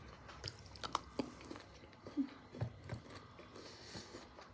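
Crunchy bites and chewing of a Belgian caramel biscuit milk chocolate bar, several sharp crunches spread irregularly over the span, close to the mic with no talk.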